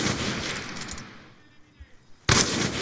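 Sniper-rifle fire in Black Ops 2 comes as a dense burst of game gunfire that fades, then one sudden loud shot after a short quiet gap.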